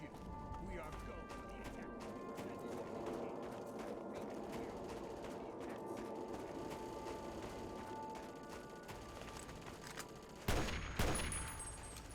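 Rapid, dense gunfire from giant turrets in Fallout 3's Operation Anchorage keeps rattling steadily throughout at moderate level, with a couple of heavier blasts toward the end and people talking over it.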